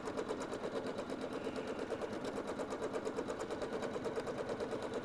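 A sewing machine stitches the shaded background of an appliqué Christmas ornament, a fast, even needle chatter repeating steadily at close range and at moderate level, with no talk over it.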